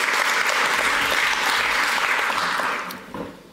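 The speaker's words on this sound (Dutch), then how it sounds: "Applaus graag." An audience at a Dutch talk event on data sharing for a healthier city claps in a dense, steady burst of applause that fades out near the end, with no talking over it.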